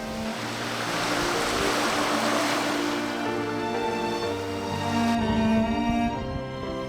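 Ocean surf rushes steadily onto a beach in a broad, continuous roar, with a low background hum under the wash of the waves.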